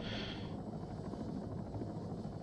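A helicopter in the video game ARMA 3 drones steadily with a low, rapid rotor thump, faint and continuous throughout, with a brief higher whine at the start.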